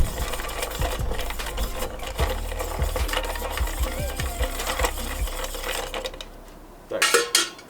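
Ice rattles and clinks as it is stirred in a cocktail mixing glass to chill it, a busy close-up jangle of cubes against glass that eases off, then a few sharper knocks at the end.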